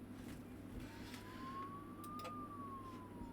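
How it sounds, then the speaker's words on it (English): An ambulance siren passing at night, a faint, distant wail rising and falling once against steady low background hum, with no talking. "I don't know why the ambulances need to like run their sirens in the night when there's like no traffic"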